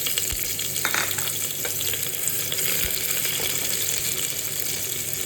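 Onions fry in a pan with a constant dense sizzle and hiss, close and steady, with a few faint stirring knocks underneath.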